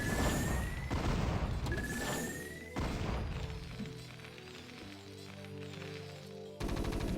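Missile turrets firing at mutalisks in StarCraft, several loud thumping shots and impacts amid busy game effects and a steady electronic hum.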